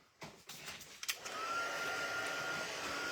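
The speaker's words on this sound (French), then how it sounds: "Pistolet chauffant." A heat gun starts up and settles into a steady, loud blowing whoosh, melting embossing powder on a handmade watercolour Christmas card; a few soft handling taps come just before it.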